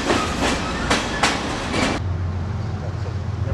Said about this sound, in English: We have a train passing by.